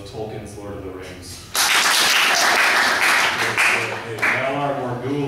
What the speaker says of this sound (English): Clap your hands if you are a fan of Tolkien's Lord of the Rings